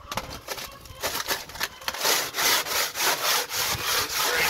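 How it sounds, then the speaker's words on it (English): Crumpled tin foil is rubbed back and forth over a greasy barbecue smoker grate in rhythmic scraping strokes, close and steady, with no talking. "there's a reason why I use tin foil instead of wire brushes."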